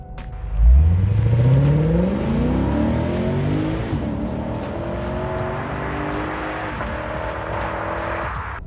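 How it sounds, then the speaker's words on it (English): A Lexus IS500's V8 with an 8-speed automatic and rear-wheel drive surges hard from a launch, the deep exhaust note climbing quickly and then holding a steady loud drone, close and with no talk. "And it has that real meaty exhaust note, which V8s are known for."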